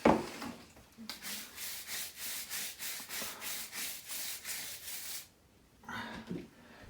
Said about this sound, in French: je m'en vais nettoyer la carte mère. Avec une brosse à grand poil, bien sûr, pour ne pas arracher de composants